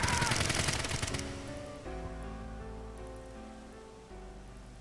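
Gunfire in the video game AI: The Somnium Files – Nirvana Initiative, a loud rapid burst of automatic shots that cuts off after about a second, leaving a sustained musical drone and low rumble behind.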